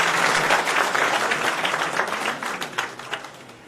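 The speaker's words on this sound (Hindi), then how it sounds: "कीकी सिंह हमारे बीच में, उनके लिए जोरदार तालियां बजाएं।" Audience applause at a Karni Sena party workers' political meeting in Jharkhand, a dense burst of clapping from a crowd that gradually thins and tapers off over a few seconds.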